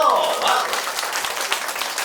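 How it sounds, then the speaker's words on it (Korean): A workshop audience claps briefly in a meeting room, a short burst of scattered applause that fades quickly, heard with some voices mixed in. "박수 한번 주세요."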